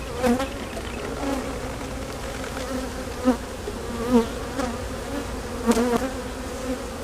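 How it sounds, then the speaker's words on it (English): Honey bees buzz from an open hive box in an over-wintered colony, a dense steady hum close by with individual bees whizzing past now and then, and no one talking. "Wow, what a box of bees."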